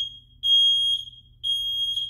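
A home smoke detector, freshly mounted, blares its test alarm: two long, loud, piercing tones, each about a second long, with a short gap between them and no voices.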